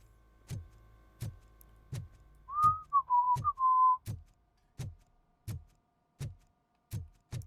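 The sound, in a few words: RoboCop whistling in the video game RoboCop: Rogue City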